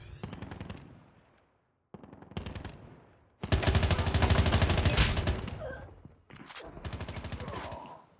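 Machine gun fire in a Call of Duty Mobile gunfight, loud close bursts of rapid automatic shots separated by short pauses, with one long sustained burst in the middle.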